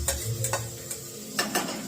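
A spoon clinks and scrapes around a pan of tempered khichdi, which sizzles gently underneath the stirring. The metal clicks come at an uneven rhythm and no one speaks.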